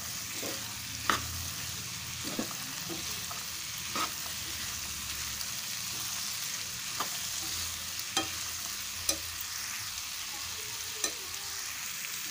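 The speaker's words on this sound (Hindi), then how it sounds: "हम फ्लेम को हाई कर देते हैं। हम इसे एक मिनट तक इसी तरह से भूनेंगे।" Spicy chickpeas with lemon frying in a pan on high flame, a steady close sizzle broken by regular sharp scrapes and clinks of stirring.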